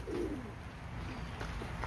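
Pigeons coo softly among a group of birds at a petting farm, low murmuring calls continuous and fairly faint for the whole stretch.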